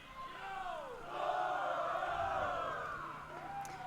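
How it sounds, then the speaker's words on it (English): A junior women's ultimate frisbee sideline cheers on its squad at a gold-medal tournament match, a steady wash of voices and whoops swelling loudly in the middle and easing off near the end, heard from a distance. "Lots of energy here from the Toro sideline. The open team cheering on their respective squad."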